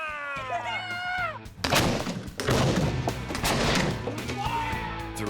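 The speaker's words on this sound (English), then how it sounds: "We can fire that again. And it's gonna blow up." A homemade leather cannon fires and blows up in a loud, booming blast that rolls on for several seconds. Musical tones come first, and whoops and cheering follow the blast.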